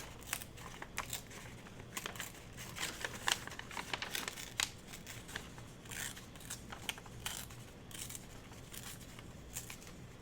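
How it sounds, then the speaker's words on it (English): Printed copy paper is torn by hand around a shape, making quiet, irregular ripping and crinkling bursts close up, with no voices. "Let's just tear around that one and see what we get."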